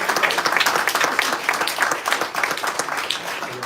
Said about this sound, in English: So may we have one more round of applause.